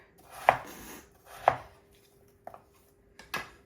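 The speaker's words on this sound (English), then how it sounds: "All right, that's chopped up." A knife chops through frozen canned pears on a board, four separate sharp cuts spaced about a second apart, close and fairly quiet, with no voices.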